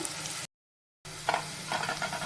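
Field beans and onion roast in tempering oil with a soft steady sizzle and several light scraping stirs of a spoon in the pan, briefly cut by a silent gap.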